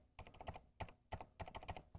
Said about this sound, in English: let us listen to the silent MX Red.